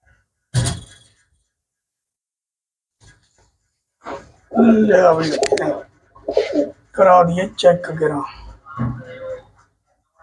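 A large pigeon coos in a few short bursts, loud and close, separated by silent gaps, with a brief sound near the start.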